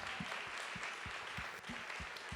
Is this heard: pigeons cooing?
no